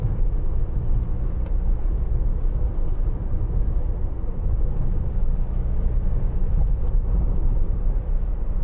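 A 2018 Ford Transit Custom 2.0 TDCi 290 L1H1 van drives along on a test drive, a steady low cabin rumble of engine and road noise with no speech.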